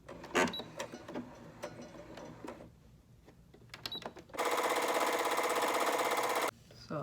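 A sewing machine stitches scrunchie fabric in a steady, loud mechanical whir lasting about two seconds, preceded by quieter handling clicks and a few spoken words.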